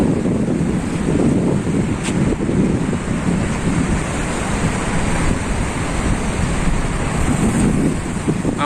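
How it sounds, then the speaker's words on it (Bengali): Monsoon floodwater pours out of Chandil Dam in a loud, steady roar, heard from a bridge with wind buffeting the microphone throughout and no voices. "আমার পিছনে জল ছাড়ছে, বর্ষাকালের রূপ ভয়ঙ্কর"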